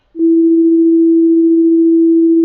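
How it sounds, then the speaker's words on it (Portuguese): A loudspeaker in a physics classroom demo emits a loud, pure, steady sine tone that starts abruptly and holds unchanged for about two seconds, with no voice over it. "A gente tem aqui um alto-falante, ele está emitindo uma onda, tá?"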